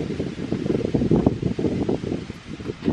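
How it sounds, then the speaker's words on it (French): Wind gusting in the highlands ahead of a cyclone, a rough, fluctuating rushing noise with rustling bursts, loud and close to the microphone. "Le vent commence à souffler les gars."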